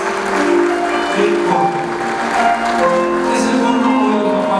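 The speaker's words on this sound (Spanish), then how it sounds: "Fuerte el aplauso, que se escuche para recibir hoy a los papás" Wedding guests applaud loudly as the groom's parents are welcomed, with sustained, dense clapping and a steady musical tone running underneath.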